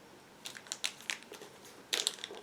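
Small plastic bag from a Bandai 1/144 Gundam Age model kit crinkling as it is opened, a series of quiet, close, crisp rustles and crackles in short bursts.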